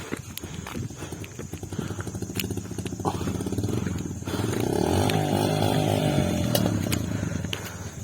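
A motorcycle that has just broken down on a mountain road to Kandao Top in Pakistan runs with a loud, close, uneven chugging putter, the engine note swelling and thickening midway before easing slightly, with no one talking.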